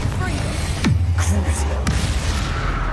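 Confringo fire spell cast in the Hogwarts Legacy video game, heard as a few sharp whooshing blasts with sweeping magical tones, loud and close over a steady low game rumble.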